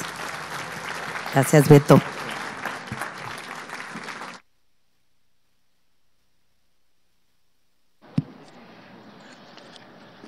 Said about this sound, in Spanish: Le reiteramos este fuerte aplauso y nuestra gratitud a Lila Downs